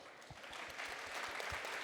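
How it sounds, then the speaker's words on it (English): An audience at a Minnestar tech community event claps in steady scattered applause, moderately distant in a hall, sustained throughout with individual claps audible under the wash. "we're going to give a big round of applause to these people"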